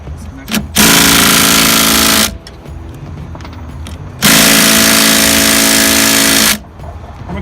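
A Makita impact driver works on removing a Jeep tub, firing two long, loud hammering bursts separated by a pause with quieter shop sound between them.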